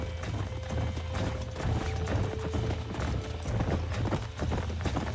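Horses gallop in Red Dead Redemption, a rapid, continuous clip-clop of hooves over a low rumbling bed of game sound, with a faint neigh and no voices.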